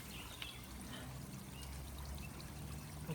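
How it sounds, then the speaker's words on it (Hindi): Cold, clear spring water pours down from a hillside on a trail in the hills near the Spain-France border, a steady outdoor splashing rush with no voices. "जो पहाड़ी के ऊपर से पानी गिर रहा है।"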